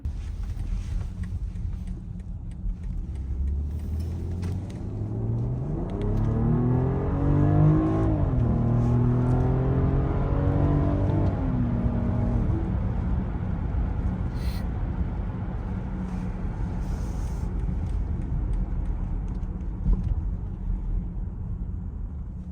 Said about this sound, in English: Let's see an acceleration test.